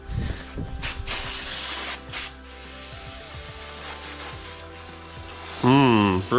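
Brake cleaner sprays onto Subaru 2.5 engine parts and camshaft end caps during a head gasket job, several loud, close hissing bursts, some short and one long, with a voice briefly at the end.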